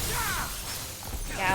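The Diamond Dust ice spell bursts in Final Fantasy XVI with a crisp, glassy shattering and sparkling chime-like sweeps, heard close and fairly loud amid other game sound.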